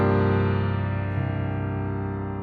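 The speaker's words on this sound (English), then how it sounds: "a sus9 chord. That might sound something like this." A sus9 chord is sounded as one sustained, rich harmonic chord that rings out evenly and fades slowly, with no talking.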